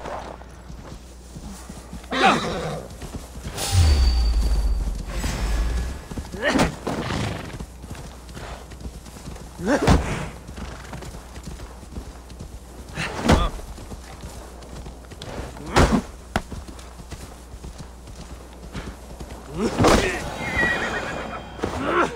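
A horse neighs loudly several times over scattered hoofbeats in the video game Assassin's Creed Valhalla, with a person talking intermittently in between.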